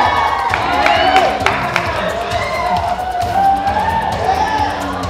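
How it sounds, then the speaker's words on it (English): A crowd at a reception cheers, shouts and claps during a hot-or-cold guessing game, loud mixed voices and applause swelling and dipping, with some talk and children's shouts among them. "The crowd will tell you hot or warm with their applause"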